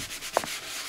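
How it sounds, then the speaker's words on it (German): Wooden chair leg being sanded at a workbench, a short burst of soft rasping rubs with a couple of brief scrape strokes, close and alone. "Er schleift gerade ein Stuhlbein, das er flicken musste."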